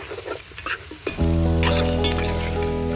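Goat head meat seasoned with turmeric and salt is stirred in a pan. A few soft scrapes are followed by a loud, steady sizzle of frying that carries on close up, with no talk.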